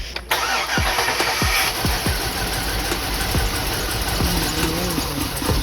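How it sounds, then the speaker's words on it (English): A Gen4 5.3 V8 fitted with an SS2 and turbo cranks and fires, then settles into a steady, loud idle with a few light throttle blips. "Rev it up a little bit."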